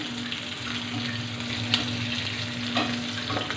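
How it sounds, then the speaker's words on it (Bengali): Fish frying in hot oil gives a steady, close, continuous sizzle with faint crackles, heard alone without talk. "মাছটা ভাজি করে নিলাম"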